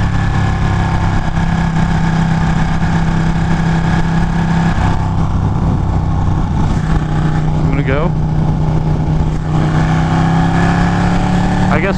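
Motorcycle engines run loud and steady close by on a Sunday ride, a constant rumbling drone with a brief rising rev partway through, while someone talks over it.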